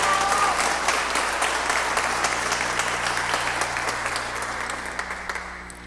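An audience at a public hearing bursts into sustained applause, dense rapid clapping that fills the room and slowly tapers in loudness over several seconds.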